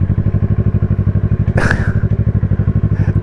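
A Honda CB250N Superdream motorcycle lugs along in too high a gear, its engine thumping out a slow, heavy, regular pulse, close and loud, with a brief clatter partway through.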